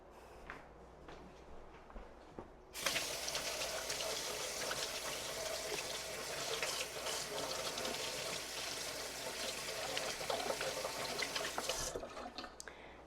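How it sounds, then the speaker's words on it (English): Tap water runs steadily into a sink while hands are rinsed, starting abruptly after a few quiet seconds and stopping near the end, close and fairly loud with no talk. "I was rinsing off my hands"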